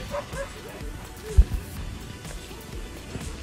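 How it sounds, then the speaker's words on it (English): Husky puppies yip and whimper in short high bursts, one sharper bark standing out, with people chatting over and around them in an outdoor kennel in Svalbard. "Bye, puppies!"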